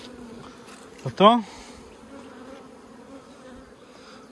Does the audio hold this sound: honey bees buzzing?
yes